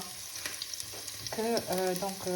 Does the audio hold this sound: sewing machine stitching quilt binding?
no